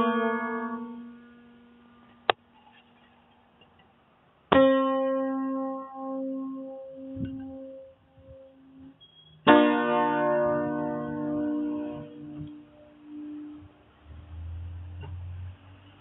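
Notes sounded on an interactive piano exhibit: isolated tones struck a few seconds apart, each ringing out and decaying slowly in a reverberant space, with a sharp click between and low rumbling at the end.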